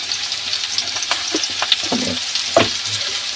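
Taro stolons frying with chili powder in a pan, stirred with scraping strokes over a steady crackling sizzle, with a few sharper clatters near the end.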